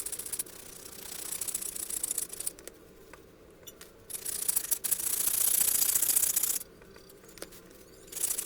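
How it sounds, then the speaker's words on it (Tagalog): A hand saw rasps through the plastic top cover of a lead acid battery in uneven bursts of scraping strokes, some passages louder and denser than others, with no talk. "pag ito po ay kinata natin sa pamamagitan lang po ng lagari"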